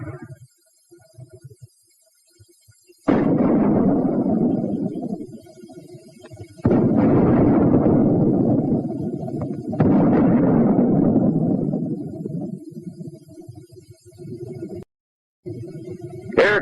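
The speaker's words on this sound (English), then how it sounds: "The mortar also fires smoke shell." A mortar fires white phosphorus smoke shells: several heavy booms, each swelling into a long rumbling roar that fades before the next, with near-silence between blasts.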